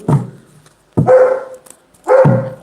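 A dog barks three times at roughly one-second intervals indoors, each a sharp close bark trailing into a short whiny tone, loud and alone.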